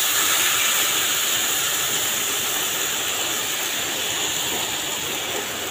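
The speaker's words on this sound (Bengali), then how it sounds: "গরম জল দিয়ে দিলাম।" Hot water pours into a cooking pot with a loud, even hiss that holds steady from start to finish, close by and alone, with no voices.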